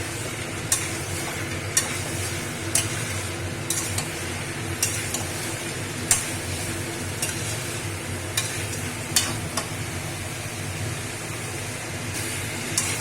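Ground spice paste for mutton curry fries with a continuous sizzle, while a utensil scrapes the pan in regular clicks roughly once a second throughout.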